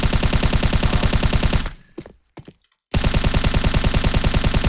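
Rapid automatic rifle fire from an M4A1-S in the video game Counter-Strike 2, loud sustained bursts with a short break of near silence in the middle, no talking.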